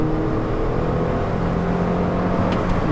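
A Mini Cooper S with a six-speed manual engine drones steadily up close from inside the cabin, holding a continuous hum with no distinct shift breaks heard.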